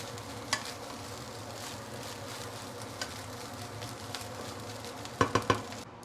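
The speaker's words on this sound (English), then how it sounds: "We just give last few stir and our luncheon fried rice is ready." Luncheon meat fried rice being stirred in a pan over a soft background hum, with faint sizzling and several sharp spatula clacks near the end.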